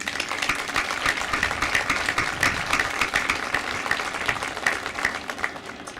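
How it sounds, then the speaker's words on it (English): Applause from an audience at a 2020 high school graduation ceremony, a steady dense patter of many hands clapping throughout at moderate volume, easing off slightly at the end. "So a round of applause for a truly resilient class."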